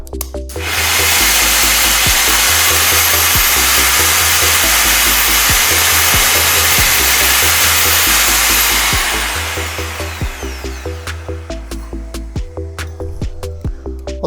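A loud, steady motor roar like a drill running alongside a vacuum hose, boring holes for cam-lock fittings with a positioning jig, with rhythmic thumps underneath; it eases into pulsing bursts toward the end.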